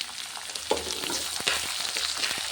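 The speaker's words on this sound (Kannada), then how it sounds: "ಇದು ಚೆನ್ನಾಗಿ ಫ್ರೈ ಆಯಿತು ಈರುಳ್ಳಿ" Onions frying in a pan give a close, dense sizzle with a few stirring clicks and scrapes over a brief stretch, with no talking.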